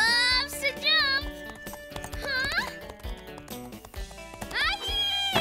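Cartoon horse hooves clip-clop in a quick rhythm alongside a whinny, mixed with music and speaking voices in an animated scene.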